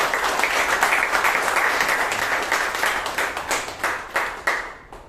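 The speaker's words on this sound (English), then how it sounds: "please give Akash a huge round of applause" Brisk applause from a small audience at a Toastmasters meeting in Bangalore, dense at first and then thinning to a few scattered claps as it dies away.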